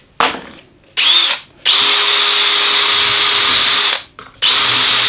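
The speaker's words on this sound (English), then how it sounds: "put it in my drill" A handheld power drill fitted with a centering drill bit, making a few short bursts and then one long steady whirring run, up close and loud, ending in another quick burst.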